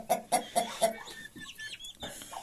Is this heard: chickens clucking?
yes